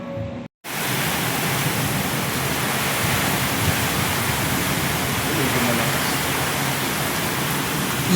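Water pours and splashes steadily at a coffee shop in Antipolo City, a dense broadband rush that stays loud and even throughout after a brief cut near the start.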